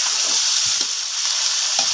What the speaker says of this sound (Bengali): পেঁয়াজ, রসুন বাটা দিয়ে ভালো করে লাল করে নেব